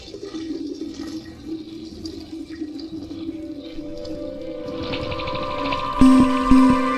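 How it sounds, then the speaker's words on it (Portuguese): A toilet flushing inside a shopping center, a rushing wash of water swelling up over the last couple of seconds, loud and close, after a quieter stretch of low hum. "é possível ouvir o som da descarga do vaso sanitário"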